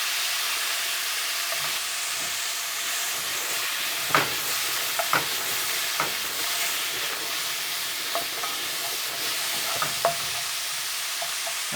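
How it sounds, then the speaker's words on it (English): Beef searing in a hot wok over a high flame, a loud continuous sizzle with occasional sharp clicks and scrapes of a utensil tossing the meat, no speech. "Keep that wok hot, keep the flame on hot. Okay, and sear that beef through."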